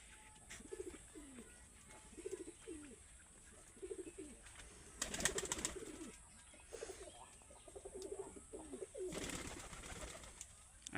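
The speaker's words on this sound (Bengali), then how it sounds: "আর ওই সাইডে আছে কবুতর" Pigeons on a farm coo in repeated soft, rolling phrases at a moderate distance, with two short bursts of louder rustling or wing noise in between.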